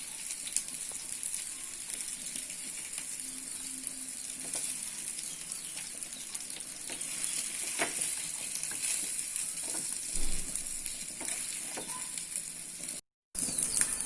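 Vanjaram fish fries in a pan with a dense, continuous sizzle and spattering crackle, steady and close throughout, with no talking.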